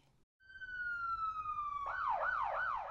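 A police car siren starts as a long, slowly falling tone and then switches to a rapid rising-and-falling wail, loud and close, with no talking over it.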